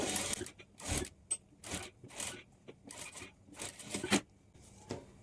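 A sewing machine stitching a boat-neck lehenga blouse seam with a half-inch margin, running in short bursts of whirring stitches separated by brief pauses, close and fairly quiet, with no voice over it.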